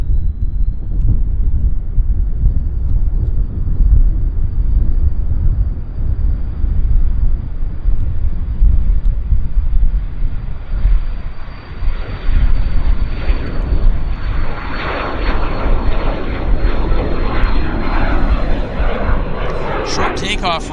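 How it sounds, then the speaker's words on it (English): A business jet taxiing and beginning its takeoff roll at Vancouver International Airport: loud, steady engine roar with a high whine, building toward the end, with someone talking over it. "Takeoff roll."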